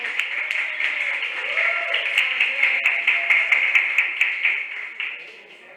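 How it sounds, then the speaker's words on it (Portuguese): Applause at a swearing-in ceremony for new members of a municipal committee, a crowd clapping in a steady patter for several seconds, moderately loud and slightly distant, then tapering off at the end. "Salva de palmas para o Jefferson, por favor."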